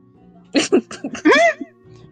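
A person vocally imitates a quick sneeze: a few short breathy bursts lead into a drawn-out, wavering vocal release, close and fairly loud.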